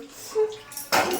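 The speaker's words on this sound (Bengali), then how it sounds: "বাদ বাকি যেটুকু বাসন আছে সেগুলো মেজে নেব" Dishes being scrubbed and washed in a home kitchen, with a brief clatter of pots and utensils and a louder burst of running water and scraping near the end, close and fairly quiet.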